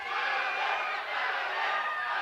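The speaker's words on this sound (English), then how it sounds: "you listen to that crowd. Yeah, huge cheering section" A large crowd roars and shouts at a Thai boxing event, a dense, sustained wall of cheering with slight swells, heard alone without clear talk.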